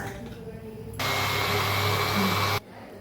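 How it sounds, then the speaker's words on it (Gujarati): A hand blender whirs through buttermilk and gram flour for kadhi, a steady loud motor whine that starts abruptly, runs about a second and a half, then stops, over quieter room noise. "એની અંદર 3 ચમચી જેટલો આપણે આ ચણાનો લોટ ઉમેરી અને બ્લેન્ડર મારી દઈશું"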